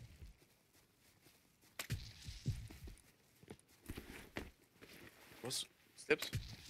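Soft, scattered footsteps thud and scuff in the survival game Rust during a base counter-raid, faint and irregular amid quiet surroundings, with people talking at moments.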